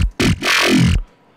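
A squishy, growling FM8 synth bass soloed, giving one short burst followed by a longer sustained, bright, buzzing growl of about a second that then cuts off.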